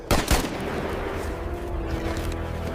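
Gunfire in battle during a cliff assault, two sharp loud shots at the start followed by a dense rumbling wash of distant firing that carries on steadily.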